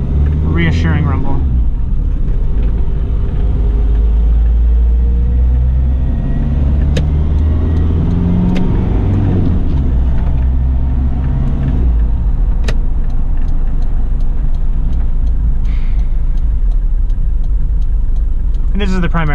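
1993 Daihatsu Rugger F78 turbo diesel 4x4 rumbling steadily while driving, a loud, continuous low engine drone heard from inside the cab with occasional small clicks and knocks.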